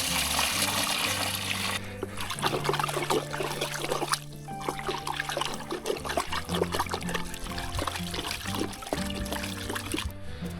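About two litres of water pour into a Bordeaux mixture solution for spraying raspberries, a steady gurgling, splashing stream lasting several seconds, with small shifts in flow and no talk.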